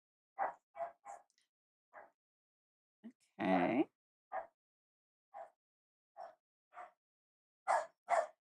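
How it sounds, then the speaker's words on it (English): A dog barks in short, separate bursts indoors, about a dozen sharp woofs spread unevenly and mostly close, with a longer whiny yelp in the middle and a brief spoken word. "Sorry about the dog."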